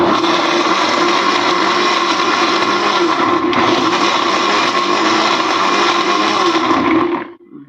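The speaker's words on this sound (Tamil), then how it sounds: "ஜூஸர் இருந்தால் இந்த மாதிரி போட்டு அரைச்சிக்கோங்க இல்லைன்னா உங்கள்கிட்ட மிக்சி ஜார் இருந்தாலும் பரவாயில்லைங்க அதில் போட்டு அரைச்சிக்கோங்க" A mixer grinder jar blends mango with milk into a thick milkshake, roaring loud and steady for about seven seconds before the motor cuts off and winds down.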